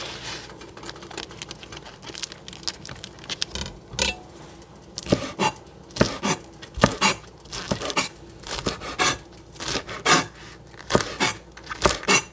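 Swiss chard leaves are sliced thinly with a knife on a cutting board, giving a run of quick, crisp chopping strokes in uneven bursts, close and moderately loud, with no talking.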